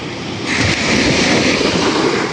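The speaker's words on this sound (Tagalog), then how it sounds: "Habang tumatagal po kami dito ay parang lumalaki yung alon." A steady, loud roar of ocean waves with rushing surf and wind buffeting the microphone, with no talking.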